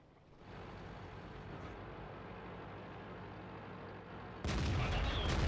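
A tank gun firing in World of Tanks, a single heavy boom near the end that follows a steady engine rumble and stays loud to the close.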